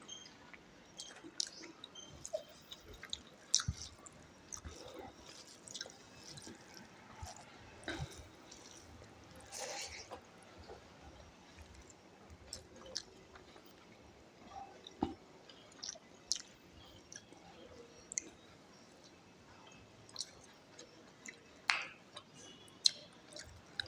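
Close, quiet chewing and biting while eating fish curry with fried fish, soft irregular mouth clicks and smacks repeating throughout with no talking.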